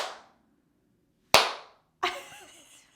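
Sharp single hand claps used to switch a Pixoo LED pixel art frame on and off, three crisp claps close by in a quiet room, each decaying quickly, the last followed by a faint electronic chirp.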